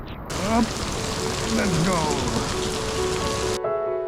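Heavy rain pours steadily on a surface during a motorcycle ride in northern India, a dense continuous hiss with a faint voice briefly audible beneath it.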